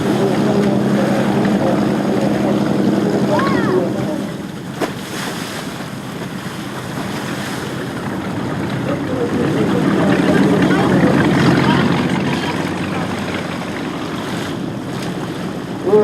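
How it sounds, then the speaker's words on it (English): Classic wooden motorboats cruise in a boat parade on open water, engines droning steadily under wind buffeting the microphone and the wash of waves, continuous and fairly loud throughout. "we are out here on the water for the Classic Boat Parade"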